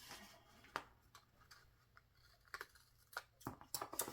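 Scissors snip through washi tape laid on scrapbook paper for a Christmas card craft, a few faint, quiet crisp cuts spaced apart, the last ones quicker.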